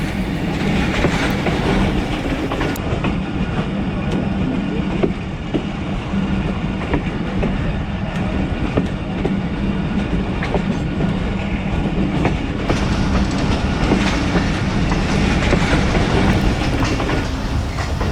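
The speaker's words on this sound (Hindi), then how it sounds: "ट्रेन दोबारा मेन लाइन पे चढ़ रही है" A passenger train runs along the rails while rejoining the main line, giving a loud, steady rumble with clickety-clack wheel beats throughout.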